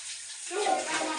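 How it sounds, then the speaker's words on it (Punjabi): Water pours and splashes as rice is drained through a strainer while cooking veg biryani at home, starting abruptly after a quiet moment and continuing in a short, loud burst. "ਝਾਰਨੀ ਚੌਲਾਂ ਨੂੰ ਝਾਰਨੀ ਦੇ ਵਿੱਚ ਪਾ ਲੈਣੇ"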